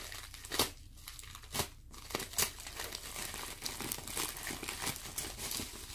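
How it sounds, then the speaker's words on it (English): Plastic packaging of a yarn swap parcel crinkles and crackles as it is opened by hand, with irregular loud bursts close up and no talking. "Excuse the crinkling."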